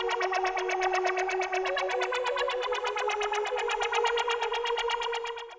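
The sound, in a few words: synth layered with cello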